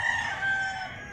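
A rooster, a blue face gamecock, gives a single short crow that is clear and moderately close, with no voices around it.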